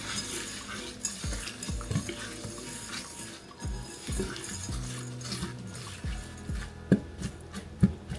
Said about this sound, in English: and the coconut oil. So I'm going to give that a stir.